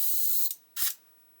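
Primer sprays from a spray gun with a siphon cup in two bursts: a steady hiss that cuts off sharply, then a short, loud second blast that fades, with no talking.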